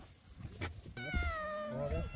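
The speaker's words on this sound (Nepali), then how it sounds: "यहाँ बिरालोजीहरू भोकाले कराइरहन् म्याउ म्याउ" A hungry cat near Dobongsa on Bukhansan, Seoul, lets out a long, rising and falling meow, close and clear, after a person briefly speaks.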